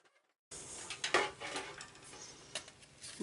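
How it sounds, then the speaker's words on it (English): A heat gun melts embossing powder on a memorial thank-you card, its steady blowing whoosh starting abruptly after a brief silence and running on with a few small clatters. "I'm going to turn my gun on for just a moment and emboss this"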